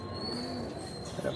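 A Madras pigeon cooing softly, a short low murmuring coo close by against faint background noise.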